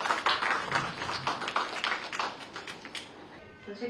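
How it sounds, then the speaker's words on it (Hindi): An audience applauds at a Bansal News ceremony marking the release of a coffee table book, with minister Vishwas Sarang present. The clapping is quick and scattered, stays fairly close, and thins out toward the end. "तो चलिए जोरदार तालियां एक बार फिर से"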